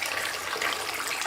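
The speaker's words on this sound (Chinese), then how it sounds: "放入清水冲洗" Clean running water pours steadily over pork in a sink, a continuous close splashing gush with no talk.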